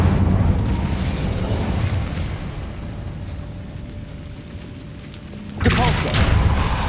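Incendio fire spell in Hogwarts Legacy going off inside a catacomb: a steady roaring blast with a low thump, then a sharp louder burst near the end, with game ambience underneath.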